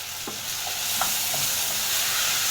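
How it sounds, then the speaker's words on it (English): Beef masala stirred into a beef stew, a continuous bubbling sizzle with a few soft spoon scrapes and knocks near the start. "and stir that all in like that"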